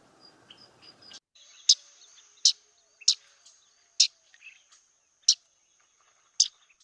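A bird gives its sharp chip call in a wetland around Ottawa, about half a dozen clear, high, evenly spaced notes ringing out alone after a softer jumble of calls.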